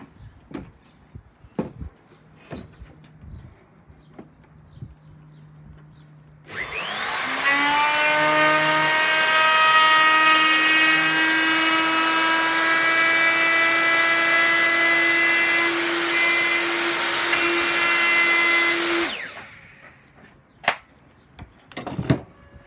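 A power saw rips an oak chopping board to width. It spins up with a rising whine, holds a loud, steady, high-pitched cutting drone for about twelve seconds, then winds down, with small knocks and handling sounds before and after.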